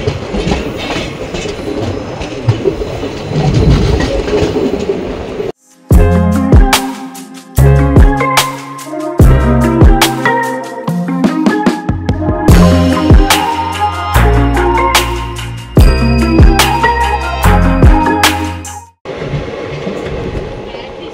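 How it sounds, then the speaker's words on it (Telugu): The Ratnachal Express runs after leaving Tadepalligudem station, its carriages rumbling loudly at the start and end, while a long middle stretch is dominated by sharp, tonal, rhythmic sounds over the rail noise. "మన ట్రైన్ అయితే తాడేపల్లిగూడెం నుండి అయితే బయలుదేరిపోయింది."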